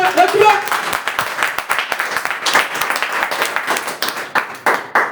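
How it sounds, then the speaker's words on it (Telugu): A church congregation claps hard in a quick, loud, steady rhythm that fills the space, with voices calling out over the applause. "గట్టిగా చప్పట్లు కొట్టాలి, గట్టిగా"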